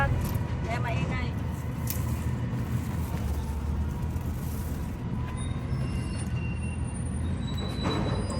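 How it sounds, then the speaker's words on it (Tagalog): A garbage truck passes close by outside, making a loud, steady broadband rumble with hissing and squealing that fills the whole stretch without a break. "may dumaan na garbage truck kaya maingay."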